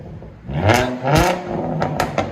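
A 2017 Ford Mustang 3.7L V6 with a six-speed manual and dual exhaust with X-pipe and straight pipes revs in short, loud, close blips, rising and falling several times.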